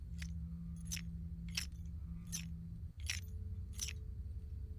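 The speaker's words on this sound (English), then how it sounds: "Scrap Baby has metallic rattling." Scrap Baby's in-game cue from Five Nights at Freddy's: six evenly spaced bursts of bright metallic rattling and scraping over a low background hum, fairly quiet and free of speech.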